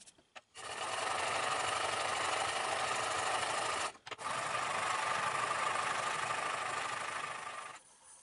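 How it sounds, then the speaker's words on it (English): A woodworking chisel being sharpened on a powered sharpener, giving a loud, steady whirring grind that runs for several seconds, cuts out briefly, then resumes and winds down. "So let's sharpen up my chisel, and then we'll get to working."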